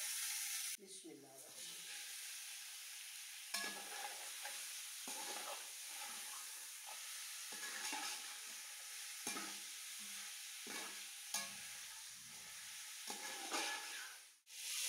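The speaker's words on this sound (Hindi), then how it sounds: "हल्का सा लहसुन फ्राई करने के बाद इसमें जाएगा 1 kg बोनलेस चिकन" Boneless chicken sizzles and fries with garlic in a hot pan for a restaurant-style chicken jalfrezi, a steady loud hiss broken by repeated stirring scrapes, with no talking.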